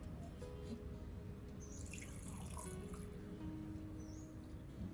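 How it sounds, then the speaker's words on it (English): Orchid roots soaking in a bowl of cooled turmeric water, a steady trickle and drip of liquid like a running tap, even and continuous throughout. "I'll place the orchid in the solution and soak its entire root system in the cooled turmeric water."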